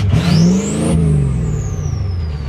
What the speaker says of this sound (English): I'm gonna go spool the turbo by myself!